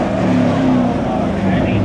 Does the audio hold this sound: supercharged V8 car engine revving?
yes